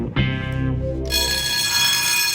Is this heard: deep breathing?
no